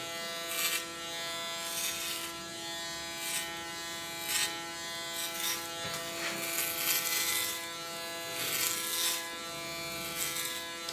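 Electric hair clipper buzzing steadily as it cuts a client's hair short in a salon, a constant harmonic hum with brief louder bursts as the blades move through the hair.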